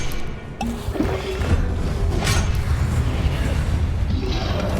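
Confringo explosive spell blasts in the video game Hogwarts Legacy: heavy booming impacts and crashing bursts repeat over a constant rumbling game soundscape, loud and close, with no voices.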